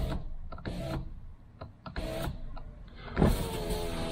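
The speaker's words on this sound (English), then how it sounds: "So the window will go up and down" A rear power window motor in a Toyota Corolla Verso runs in several short bursts, whirring on and off with brief pauses between, ending in a louder thump as the glass stops.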